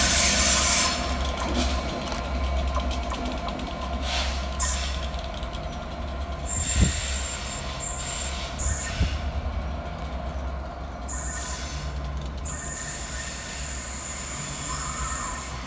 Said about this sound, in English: passing through the station 8 minutes early is 67006